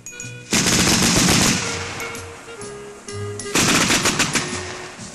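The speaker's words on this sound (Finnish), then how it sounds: "seuraamme hetken poikien ampumaharjoitusta" Anti-aircraft troops fire guns in a shooting exercise, loud rapid machine-gun bursts ringing out close, with two long volleys separated by a brief lull and echoing tails.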